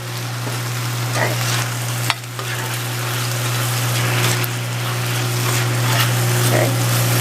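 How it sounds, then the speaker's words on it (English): Salsa verde hits a hot frying pan for chilaquiles and sizzles loudly, a dense steady hiss with stirring scrapes and a brief clatter, close up without speech. "Then I'm going to add some of my Salsa Verde."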